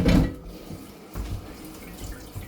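Tap water runs into a sink while a soup pot is washed out, a close splashing gush that eases and returns in short uneven surges.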